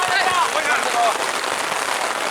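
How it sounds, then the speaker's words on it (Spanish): Rain falling steadily on a surface during a rainy outdoor football league match, a dense, constant hiss of drops with faint background voices mixed in. "Esto llueve 10 minutos así."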